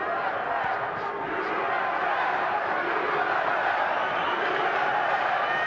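A boxing arena crowd at a USA-versus-Mexico title fight keeps up a constant, heavy roar of massed voices, steady and evenly loud from start to finish.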